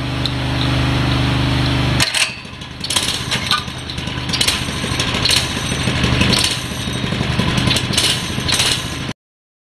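An old mini bike engine with an old carburetor starts and runs loudly up close, a buzzing small-engine note with uneven revving bursts that rise and fall before cutting off abruptly.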